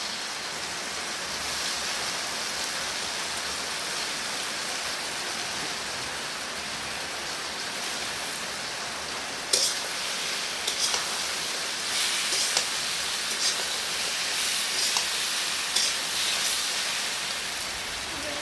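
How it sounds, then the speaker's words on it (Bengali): Elephant apple pieces go into lightly fried spices for a pickle, producing a continuous rain-like sizzle that grows louder and crackles more after about ten seconds. "এই যে মশলাগুলো কিন্তু হালকা ভাজা হয়ে গেছে, এখন আমি এখানে ছোটো করে রাখা চালটাগুলো দিয়ে দেবো।"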